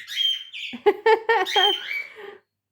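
Pet budgerigars squawk and chatter loudly up close, a run of harsh rhythmic calls bursting over a continuous high warbling, with no talking.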